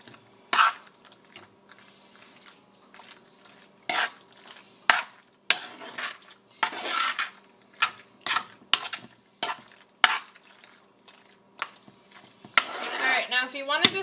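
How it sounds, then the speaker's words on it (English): Chilli mac and cheese is stirred in a pot, giving intermittent scraping and clinking strokes separated by quiet gaps. A wetter stirring burst comes near the end, close and moderately loud, with no talk. "And give this a good stir."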